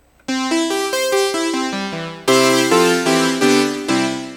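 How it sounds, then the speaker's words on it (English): Bright 80s-style polyphonic synthesizer keys play a sequence of sustained chords, each new chord struck cleanly and ringing out, loud and upfront. "This is the type of synthesizer sound you hear all over not only old music from the 80s"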